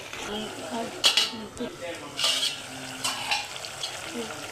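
Mutton curry with drumstick pieces simmering and sizzling in a pan, a low bubbling fry broken by a few scraping stirs and clinks of a spoon against the metal, close by.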